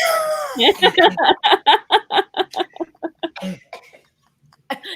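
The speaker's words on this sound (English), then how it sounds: "Coughing again." A person coughs in a long, rapid series of hacking bursts that gradually weaken and fade out.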